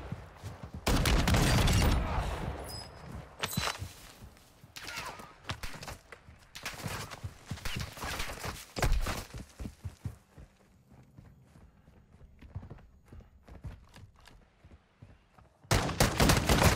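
Rapid gunfire from many fire-spewing shotguns in the game Warzone 2, with bursts of overlapping blasts, loud at first, thinning to scattered distant shots, then a loud burst again at the end.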